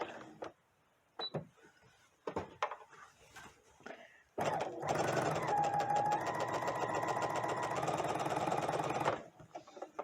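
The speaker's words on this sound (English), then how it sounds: "I'm just going to start sewing." A home sewing machine stitches a pinned shirt sleeve, running steadily and loudly for about five seconds after a few quiet handling noises, then stopping.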